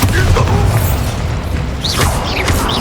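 A blasting spell detonates in a fantasy action game, a heavy booming burst with mechanical clatter and crackling debris, followed by further pops and whooshing effects, with no talking.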